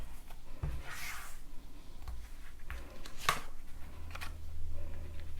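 Tarot cards shuffled and drawn at a reading table, soft close papery riffles and slides with a few sharp flicks and taps, spread across several seconds with no talking.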